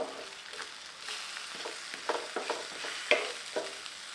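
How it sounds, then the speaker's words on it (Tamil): Boiled plantain slices coated in masala powder roast in a pan on a low flame and are turned over, with a quiet sizzle broken by several soft scraping and flipping sounds, close up. "இப்போ வேக வச்ச வாழைக்காயை ரெண்டு பக்கமும் திருப்பி போட்டு ரோஸ்ட்டு பண்ணி எடுத்துக்கலாங்க"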